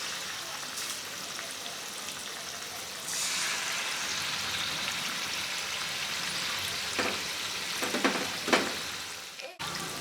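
Chicken lollipops frying in hot oil, giving a steady dense sizzle that grows louder partway through, with a few soft knocks and clinks near the end, close and continuous.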